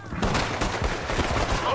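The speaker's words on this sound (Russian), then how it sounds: "там перестрелка какая-то" A gunfight in the Wild West game Red Dead Redemption 2, set around a town: a dense crackle of rapid overlapping shots, loud and close, with a voice heard over the shooting.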